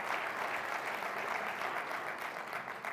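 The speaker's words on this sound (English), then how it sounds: "the former premier applauded vigorously" Lecture audience applauding, steady dense clapping from a large crowd, sustained at even level for a few seconds without speech.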